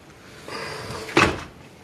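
A door closing indoors: a soft sliding rustle followed by a single sharp thud as it shuts, heard up close with no talking.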